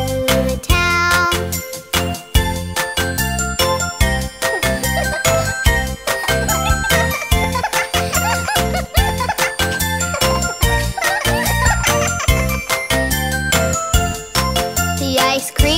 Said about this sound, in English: The ice cream truck bell goes ding-a-ling, ding-a-ling, ding-a-ling.